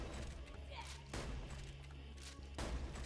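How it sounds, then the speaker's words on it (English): Gunshots fired at a barrel in Borderlands 2, with two sharp broadband blasts about a second and a half apart over a constant loud game background hum. "I'll shoot that barrel."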